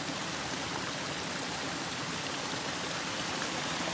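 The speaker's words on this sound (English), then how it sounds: "we have made it to our final water source, South Daggett Creek." Steady, dense rush of flowing water from South Daggett Creek along the Tahoe Rim Trail, an even broadband wash heard close and alone without any voices.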